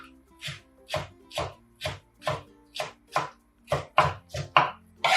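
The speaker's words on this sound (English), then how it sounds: "Okay, I'm gonna cut them like at an angle, you know what I mean?" A knife chops green onions on a cutting board at an angle, about ten crisp, evenly spaced strokes that ring out close and clear with no talking.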